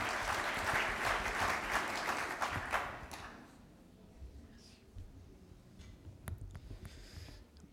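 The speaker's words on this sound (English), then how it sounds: "Please give a warm applause for Professor Henri JOYEUX." Audience applause at a medical conference for Professor Henri Joyeux, a dense round of clapping that swells strongly for about three seconds and then thins into scattered claps and murmur.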